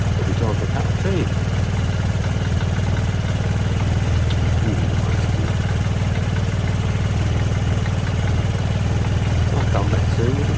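A 2006 Vespa GT 125 scooter idles steadily while warming up, a continuous low engine drone with light mechanical clatter throughout, close by and fairly loud, with faint background sounds but no clear talk.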